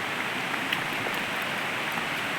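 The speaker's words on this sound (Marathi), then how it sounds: "आता वाढून जरा पाऊस आला ना." Heavy rain falls during monsoon flooding in Dapoli, a steady, even hiss of downpour with no pauses and no voices.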